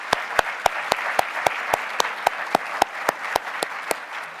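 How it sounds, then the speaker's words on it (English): Museum summit audience applauds, a crowd's soft clapping under a clear, evenly spaced series of louder single claps, about four per second, continuing throughout. "So I think an applause is in place for all these wonderful people."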